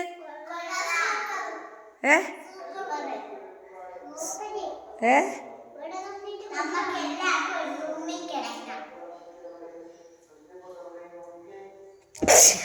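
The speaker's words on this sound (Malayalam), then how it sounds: "തുമ്മൽ വന്നു" A single sharp sneeze bursts out near the end, after a stretch of a child's babbling and chatter in a home.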